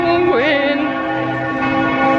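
Church bells in Vienna ring loudly and continuously at a quarter to six, their sustained ringing tones layered and humming throughout the short stretch, with no talk over them.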